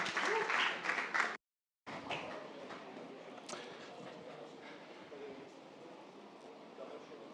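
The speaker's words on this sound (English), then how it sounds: "Let's greet them with a big round of applause." Audience applause at a startup pitch battle event fills the room, broad and steady with a brief dropout near the start, continuing as sustained clapping and crowd noise.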